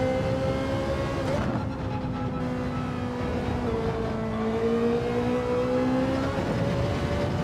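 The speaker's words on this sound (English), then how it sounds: "God, this car does sound awesome." Race car engine in Gran Turismo 7 during online lobby racing, holding a steady loud drone with rising and falling pitch as the revs climb through gears, continuous throughout with no talk.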